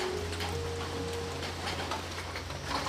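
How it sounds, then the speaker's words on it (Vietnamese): Dense early-morning rain falls steadily in a rural vegetable-garden setting, a soft continuous patter with a faint low hum beneath it and no voices. "Mới sáng sớm mà trời mưa dày hạt quá"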